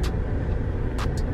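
Steady low engine and road rumble heard from inside a car stuck in heavy traffic, with a few brief bright noise bursts over the continuous drone.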